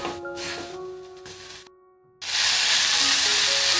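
A banana flower cutlet mixture sautés in a pan with a hissing sizzle that drops to near silence for a moment, then returns louder and steady. Faint tonal hum is present and no one speaks.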